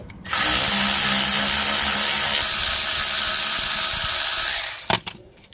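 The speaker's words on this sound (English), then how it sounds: "To remove the caliper, you're gonna need to remove those two bolts right there." A power tool spins out the brake caliper bolts on a Hyundai Santa Fe in one loud, steady whir lasting about five seconds. It stops abruptly with a clank.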